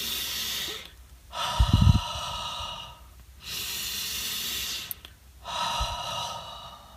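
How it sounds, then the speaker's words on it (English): Deep meditative breathing: slow, audible inhales and exhales alternate with pauses, one breath ending in a nasal snort-like rush, close to the microphone and unaccompanied by speech. "just take 2 minutes of deep breath early morning before starting work and before coming home. Just a few deep breaths."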